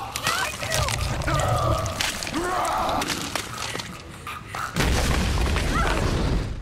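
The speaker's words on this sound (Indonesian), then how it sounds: "Kemudian ia mengambil granat dan meledakkan dirinya bersama sang ular." Grenade blast in a film scene, a deep boom with crashing debris and scattered impacts, followed by a fresh burst of rumbling noise partway through.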